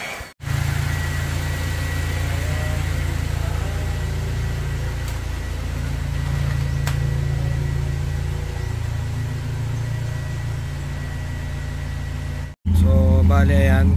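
A Toyota Fortuner's engine left running after a wash, a steady low idling hum with a constant drone, close and unbroken for most of the stretch, with brief breaks and a voice near the end.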